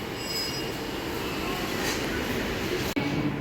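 A metro train at a railway station in Chennai rumbles loudly and steadily, its wheels squealing on the rails throughout, with a brief sharp dip just before the end.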